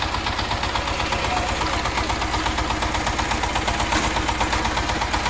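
A new power tiller engine runs in top gear with a steady, loud, rhythmic chugging and knocking that stays close and constant throughout.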